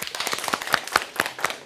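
A school class claps together for a correct answer, with about a dozen sharp, uneven claps in a quick rhythm, close and fairly loud, and no voices over them.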